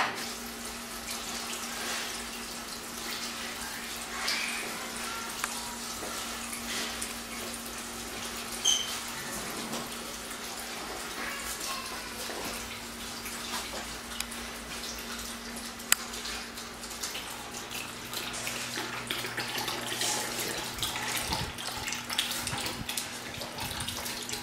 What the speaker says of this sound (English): we'll dump this, we'll come back, drain the rest of it, and pump it into our auxiliary tank